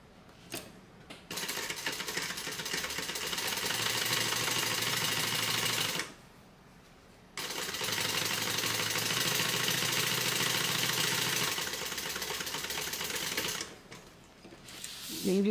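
Sewing machine running in two long steady bursts while top stitching down both sides of a handbag seam, a continuous motorized whir with brief stops between passes.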